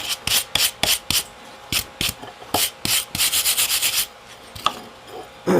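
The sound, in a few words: scraping scale off hot forged metal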